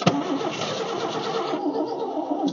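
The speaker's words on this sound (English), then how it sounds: "All right, it cranks, folks." An old car abandoned for fifteen years cranks and fires, a sharp starter burst giving way to a loud, steady running engine close by, with no talking.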